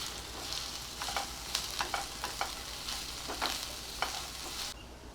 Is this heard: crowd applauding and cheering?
no